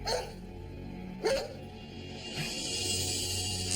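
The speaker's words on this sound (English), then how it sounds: "All of a sudden, she started barking." A single sharp dog bark rings out nearby, followed by quieter background noise and a faint second yelp.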